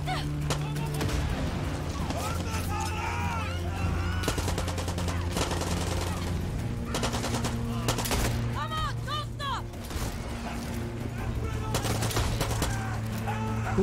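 Rapid gunfire from Far Cry 6, a dense, continuous barrage of shots and bursts from several directions, loud and close throughout, mixed with game music and effects and occasional voices.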